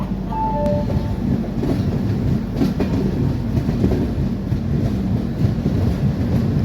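The 10104 Mandovi Express pulls out of Chiplun station on the Konkan Railway during monsoon drizzle, a steady close rumble of wheels and carriages with faint clacking throughout.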